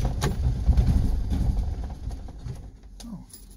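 A BMW Isetta Z bubble car engine runs rough on choke just after a cold start, a loud, uneven low rumble that eases somewhat toward the end.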